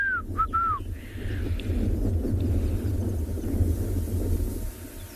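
A black-crowned tchagra calls on a morning safari in South Africa, giving a few clear rising and falling whistles early on over a continuous low engine-like rumble.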